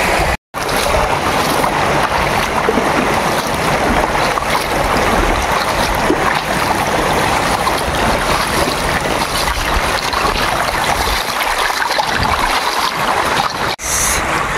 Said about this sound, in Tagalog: Lulusong kami ng tubig